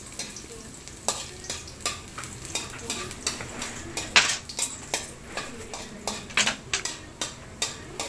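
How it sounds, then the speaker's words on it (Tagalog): Garlic fries in hot oil in a pan, a steady sizzle broken by frequent sharp clicks and scrapes of a utensil against the pan, close and fairly regular; no talking. "Painit ko ng mantika sa kawali. Pagkatapos, lagyan ko ng"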